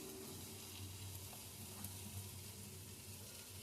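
Ground spices (garam masala, coriander, cumin, red chili and Kashmiri chili powder) sizzle in a pan for a begun bharta, a faint, steady hiss with soft stirring and no voices.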